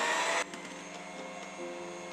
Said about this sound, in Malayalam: അത് ബീറ്റർ കൊണ്ട് തന്നെയാണ് മിക്സ് ആക്കുന്നത്.